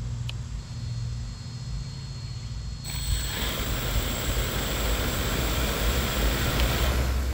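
Propellers of a homemade eVTOL flying car spin up on a first arming test: a faint hum, then a sudden jump after about three seconds into a loud, steady, broadband whirring roar that holds to the end.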